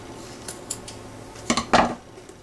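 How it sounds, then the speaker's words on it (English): Scissors snip excess material from a paper mache Easter egg around its opening, a few short, crisp cuts clustered together near the end amid quiet room noise. "And then just trim off your excess."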